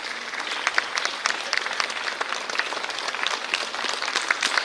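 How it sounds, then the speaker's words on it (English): A crowd applauds the state's achievers at a Girl Child Day event in Meghalaya, a steady round of clapping with distinct individual claps standing out, moderately loud. "Let us all give a big round of applause to all the achievers of our state"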